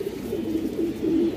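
Silver line pigeons, a breeding pair kept for long-route flying, cooing in a steady, low rolling series at close range with no talk.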